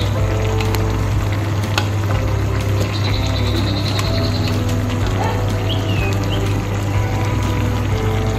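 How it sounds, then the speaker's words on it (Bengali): Hilsa fish goes into a thin, sizzling curry with potato, ridge gourd and drumstick, making a loud, steady frying hiss and crackle that runs the whole time with faint stirring clinks and no speech. "এ পর্যায়ে আমি মাছগুলো দিয়ে দেব।"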